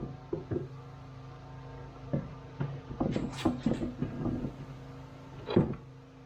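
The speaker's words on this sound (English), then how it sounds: "Pull the drawer guide out a little bit. I'm gonna set the drawer in there." A wooden drawer is set into the pulled-out drawer guides of a kitchen cabinet in an off-grid tiny home, giving a close series of knocks, bumps and scrapes that cluster into irregular bursts.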